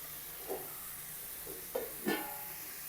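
Chopped jackfruit sizzles with onions in a hot pan, a steady soft frying hiss broken by a few brief scraping stirs, quiet and close with no voices.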